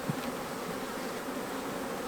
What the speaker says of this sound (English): You can see there's a good bit of bees in there.